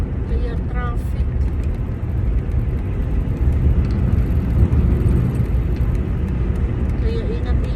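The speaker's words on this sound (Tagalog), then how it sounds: "Kaya traffic." Steady road traffic near a workplace on a rainy, foggy morning, a continuous loud rumble and whir of passing cars and vehicles filling the whole stretch without a break.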